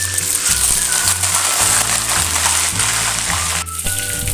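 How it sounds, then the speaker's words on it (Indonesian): Tofu and tempeh fry half-cooked in hot oil, a continuous bright sizzling hiss that runs steadily throughout beneath low background music. "kita goreng tahu dan tempenya setengah matang aja ya Bunda"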